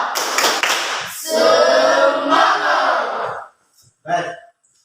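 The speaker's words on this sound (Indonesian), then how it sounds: "Kita kasih tepuk semangat dulu ya." A classroom group performs a tepuk semangat spirit chant, a burst of rhythmic clapping followed by loud shouted chorus voices, then a short final shout after a brief pause.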